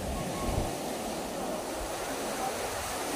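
Small sea waves heard from a fishing boat, a steady broadband wash of water and wind noise filling the clip at a constant, moderate level with no clear speech.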